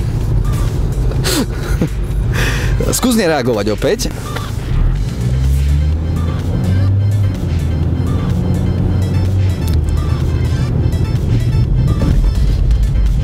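A car slides in a rear-wheel oversteer skid during a driving lesson, with engine rumble and a brief rising squeal early on, mostly under ongoing talk.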